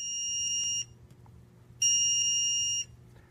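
A crane's load warning system gives two long electronic warning beeps, each about a second, separated by a short silence, high-pitched and steady, with no talking.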